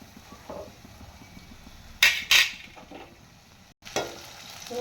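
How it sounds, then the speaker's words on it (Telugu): Raw prawns and soft-boiled potato in a tomato and onion curry are stirred in a pan over a soft sizzle, with a few loud scraping strokes of the spoon against the pan and a short pause. "పచ్చిరొయ్యలు వేసేసుకొని కలుపుకుందాం మొత్తం"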